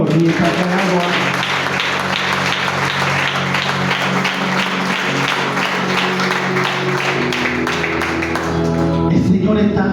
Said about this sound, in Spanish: Aplauda al Señor mientras hago algo.